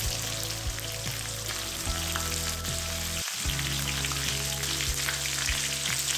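Chopped chilli sizzles loudly in a hot pan, a dense steady crackle with faint scraping stirs and a steady hum underneath, briefly dipping before the frying resumes.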